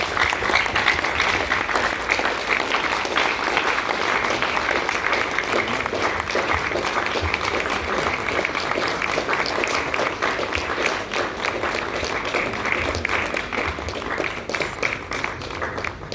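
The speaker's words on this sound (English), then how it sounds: "And a round of applause as he makes his way up the stage" A public lecture audience gives a long, sustained round of applause, dense and even throughout, slowly thinning toward the end with faint murmurs underneath.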